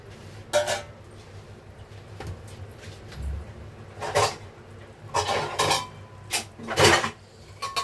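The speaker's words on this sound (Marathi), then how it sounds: "याच्यावर आपण झाकण देऊया" A metal lid set onto a cooking pot on a home stove, several sharp clanks and clinks of metal cookware spread through the clip, close and fairly loud, with no talking.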